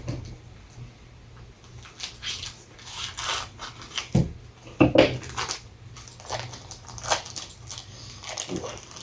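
A knife cutting through a toasted red chili Monterey Jack grilled cheese sandwich makes irregular crunchy, crackly scraping bursts over about nine seconds, close to the microphone.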